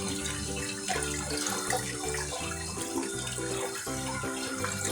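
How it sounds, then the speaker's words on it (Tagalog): A steady stream of tap water pours over cooked pasta being rinsed and cooled, a continuous close splashing rush with no talk over it. "natin lang siyang ibasain po na para lumamig po yung ating pasta"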